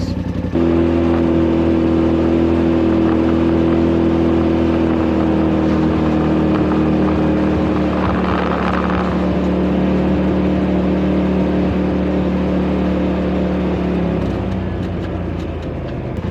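A Polaris RZR Pro XP side-by-side driven in low gear on a road, its engine droning steadily and loud up close with a slight shift partway through, then tapering near the end.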